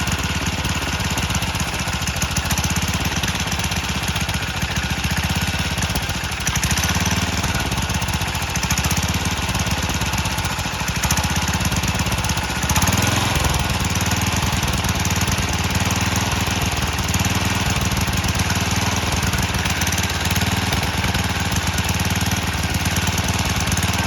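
A repaired Murray lawn edger's small engine runs steadily and loudly for the whole stretch, a constant rough buzzing drone with no voices.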